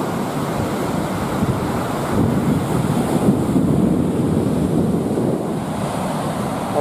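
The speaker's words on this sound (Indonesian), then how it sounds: "Ombak masih keras" Strong ocean waves roll and wash continuously at Nunggalan beach, a broad, loud roar of surf with wind buffeting the microphone and no voices.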